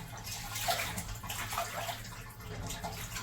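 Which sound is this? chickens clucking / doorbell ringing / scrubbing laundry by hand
scrubbing laundry by hand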